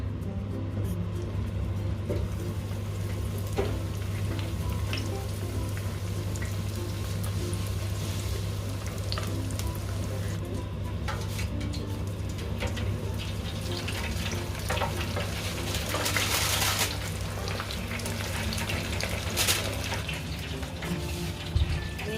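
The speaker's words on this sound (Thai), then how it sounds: "เดี๋ยวเราจะเอาลงทอดเลยนะคะน้ำมันร้อนแล้วเนาะ" Spring rolls deep-fry in hot oil, a steady close sizzling and bubbling that continues without a break, with a low constant hum under it and no talking.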